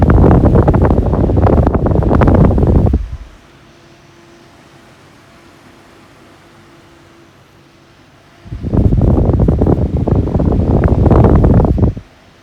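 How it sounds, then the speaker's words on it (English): Kaze Flex computer case fans blow a loud, broad rush of airflow in two bursts lasting about three seconds each, separated by a quiet stretch of faint hum. "quite a lot of wind noise, these type of fans, but it's really just wind noise. It's not motor noise"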